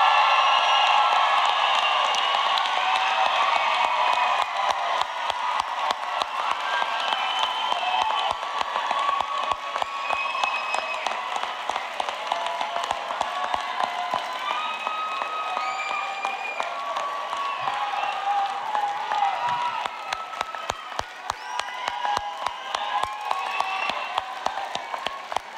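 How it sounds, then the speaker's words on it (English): Audience applauding graduates at an adult education commencement, a large crowd clapping steadily and loudly for the whole stretch with scattered whoops, slowly thinning toward the end. "I think we should give them another round of applause."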